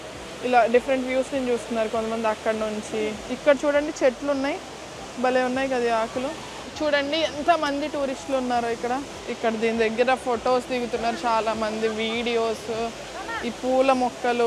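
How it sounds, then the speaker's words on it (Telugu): The world's tallest indoor waterfall at Jewel, Changi Airport, Singapore, gives a constant broad rush of falling water under a person talking steadily among tourists. "ఇక్కడ ఈ వాటర్ ఫాల్ చూసాం కదండి, ఇది వరల్డ్స్ టాలెస్ట్ వాటర్ ఫాల్ అంట"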